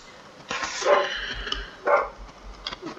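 Two bursts of dog barking, a couple of sharp barks each, somewhat distant, separated by a short pause over quiet background.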